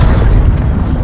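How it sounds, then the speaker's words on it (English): A cruise missile strike in Call of Duty: Black Ops Cold War, a loud, close, low rumbling boom that rolls on for about a second without voices. "Cruise missile inbound."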